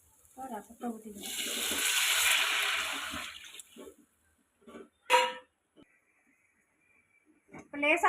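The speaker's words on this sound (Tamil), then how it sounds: "ரசத்தை ஊற்றிக்கிறோம்." Tomato rasam poured into a hot pan of tempered garlic, pepper and curry leaves gives a brief rushing, splashing pour of a couple of seconds, framed by a voice speaking before and after.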